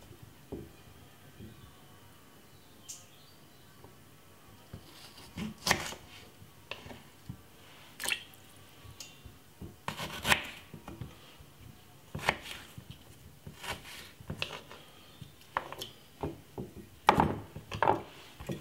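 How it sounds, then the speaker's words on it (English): A knife chopping fresh ginger on a wooden board, steady irregular taps and thuds at close range that grow busier toward the end, with no talk. "you could either just cut it up like what I'm doing"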